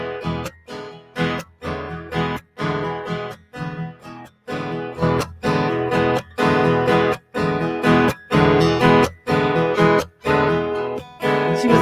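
A recorded song by Clara Schumann plays as a full, continuous musical passage with steady rhythmic phrasing and regular brief breaks. It sounds close and moderately loud, and no talk is heard over it.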